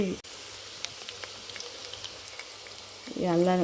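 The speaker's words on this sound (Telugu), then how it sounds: "అల్లం వెల్లుల్లి పేస్ట్ని మనం వేయాలి." Ginger garlic paste added to a hot pan for veg biryani gives a soft, steady sizzle, and a voice cuts in near the end.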